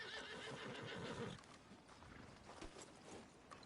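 In the Red Dead Redemption 2 video game, a horse whinnies near the start, then its hooves clop softly and irregularly. The whole sound is faint, with no talking.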